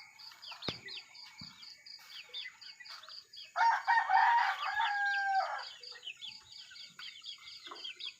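A rooster, the breeding cock siring a flock of chicks, gives a loud nearby crow in the middle, surrounded by softer repeated clucks and chirps from other fowl.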